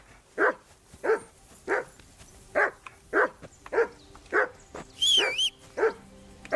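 A dog barks in the video game Kingdom Come Deliverance 2, about ten evenly spaced, moderately close barks with a brief higher whine partway through, heard without speech.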